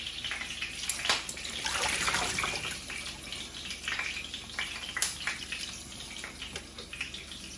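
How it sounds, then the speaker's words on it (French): Cold water runs steadily from a tap and is poured over food during cooking for skate wing with capers and brown butter, a continuous close splashing wash with no talk. "On va mettre de l'eau froide dessus."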